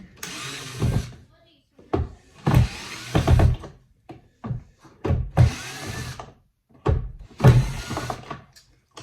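A power drill backs screws out of a ski binding plate in repeated short whirring bursts, close and fairly loud, each separated by brief pauses.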